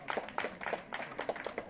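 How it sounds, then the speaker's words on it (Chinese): An audience at an outdoor tea gathering claps for the tea servers, a brisk burst of many hands with distinct sharp claps repeating in quick succession, close and lively. "我们给他们一个掌声好吗？"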